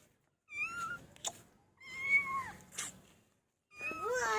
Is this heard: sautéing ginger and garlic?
no